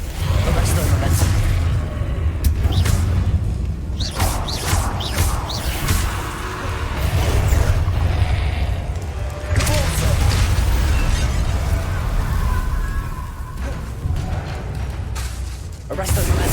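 Confringo fire spells go off in the Hogwarts Legacy video game as loud bursts and booming blasts over a dense background of game noise and music, with voices speaking between the impacts.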